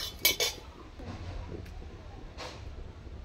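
Whole spices being stirred and fried in a pan: cinnamon, cardamom, cloves, fennel, cumin and coriander seeds. Two sharp metallic clinks of a spoon against the pan open, then a soft low sizzle with a few faint scrapes, close and fairly quiet.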